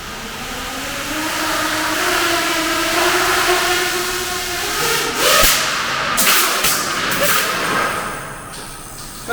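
Motors of a newly soldered FPV drone spin up with throttle on a first flight, a rising whine that climbs in pitch with bursts and surges, fairly loud and close, ending in a few sharp knocks.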